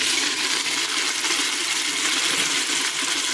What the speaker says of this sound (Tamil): ஸோ இப்போ இந்த ஸ்டேஜில் நம்ம எடுத்து வச்சிருக்க நம்ம தக்காளி போட்டுக்கலாம். தக்காளி போட்டுக்கிறேன்.